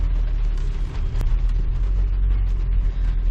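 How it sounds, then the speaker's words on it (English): Rain drums on the roof and glass of a car during heavy rain, a dense continuous patter with a low rumble underneath, close and fairly loud, with no talk. "we can already hear the rain coming down on the car."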